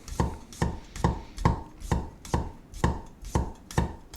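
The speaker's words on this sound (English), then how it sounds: "And then thinly sliced potatoes" A knife thinly slices potatoes on a cutting board, about nine evenly spaced strokes in a brisk rhythm, close and clear.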